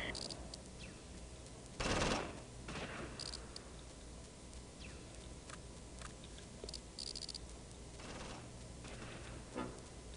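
Incoming gunfire in the Close Combat WWII strategy game set in Normandy, airborne troops against Fallschirmjäger: scattered distant shots and short bursts, one loud crack near the two-second mark, over a steady low battlefield hiss.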